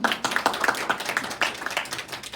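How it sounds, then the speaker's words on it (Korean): An audience at an orientation session for an English camp gives a short round of clapping, quick uneven hand claps from a modest group in a room. "그래서 이번에 박수 한번 부탁드립니다."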